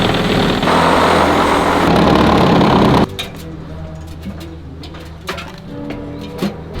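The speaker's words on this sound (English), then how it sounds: "we're gonna cut the actual wall out with just a Sawzall" Sawzall reciprocating saw cutting through a barn wall to open space for a window: a loud, close, grinding buzz for about three seconds, then it cuts off, leaving scattered clicks and light knocks.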